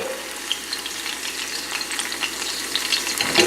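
Oil sizzling steadily in a pan with crushed garlic, oregano and jalapeno, a close, even frying hiss with light crackles and no talk.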